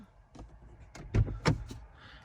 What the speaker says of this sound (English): Okay, I'm opening the door.